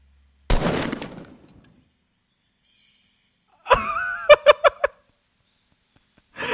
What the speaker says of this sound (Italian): Aspetta, un singolo colpo sparo.